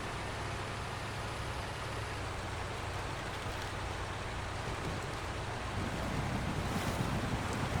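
An Azov 73210 heavy truck in SnowRunner ploughs through water, giving a continuous broad wash and sloshing rush over a low engine drone, steady and fairly quiet throughout, swelling slightly near the end.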